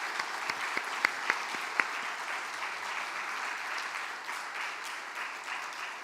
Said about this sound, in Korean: 진심으로 박수로 우리 감사의 마음을 전했으면 좋겠습니다